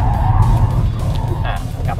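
A Mercedes-AMG GT 4-Door braking hard at about 100 km/h just after a quick lane change, heard from inside as a steady low road and engine rumble with faint tyre noise.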